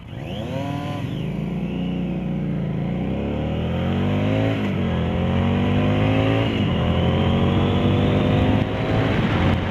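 A 2015 Harley Davidson Street 750 motorcycle engine revs loudly and steadily, rising in pitch through several throttle pulls with brief dips between as it accelerates up close.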